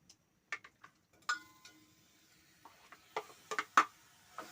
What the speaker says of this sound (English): First, we are going to start by lighting our gas.